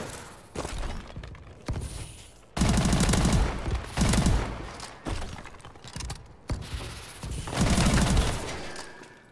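Rapid gunfire in the shooter game Advanced Warfare, loud repeated bursts of automatic fire with short gaps between them, close and dominant, no voices.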